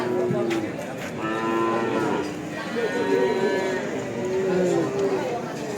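Young male Ongole-cross calves at Jatirogo livestock market low repeatedly, with several drawn-out moos rising over a busy background of people talking and market chatter.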